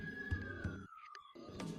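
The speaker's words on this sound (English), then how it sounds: "Sorry about that little siren outside." A siren wails outside, a single falling tone, fairly faint and distant, under other background sounds and broken by a short quiet gap.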